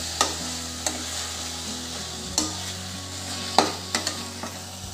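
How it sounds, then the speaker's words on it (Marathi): Carrot halwa with raisins, cashews and almonds being stirred in a pan: a soft, low sizzle under several distinct spoon knocks and scrapes spaced irregularly, close up with no talk. "किसमिस, काजू बदाम, छान मिक्स करून घेऊ आपण आता हे"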